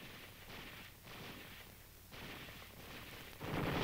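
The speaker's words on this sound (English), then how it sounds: "A murderous concentration of fire at short range, such as this, inflicts heavy punishment to enemy forces." Gunfire from soldiers in a live-fire assault training exercise at short range, distant rolling bursts and booms repeating in uneven waves, rising louder toward the end, with no voices.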